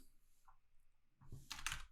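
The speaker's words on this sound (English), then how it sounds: "I'm going to type this color in" Typing on a computer keyboard during coding, a few soft isolated clicks then a quick burst of louder rapid keystrokes close to the microphone, no talk.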